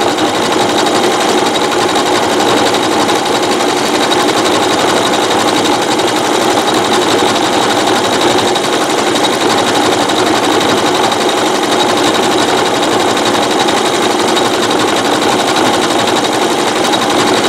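A computerized sewing machine stitches a decorative stitch on a mosaic rope bowl at about seven millimetres wide, its fast, steady mechanical whir loud and close, running unbroken from start to finish without talk.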